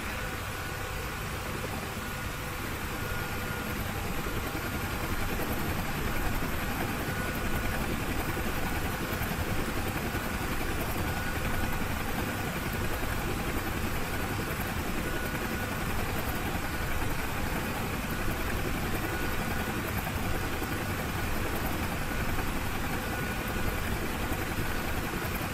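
Steady, loud drone of a Bell UH-1H Huey helicopter engine and rotor in the DCS flight simulator, unbroken and close for the whole stretch, with no voices over it.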